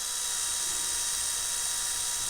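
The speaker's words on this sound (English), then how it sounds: "look at how much easier that thing drills." Steady whirring drone of a power drill boring with a new bit, continuous and fairly quiet, with no voices.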